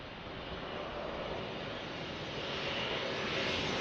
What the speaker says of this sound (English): Good job by that Cessna getting off the runway as soon as possible.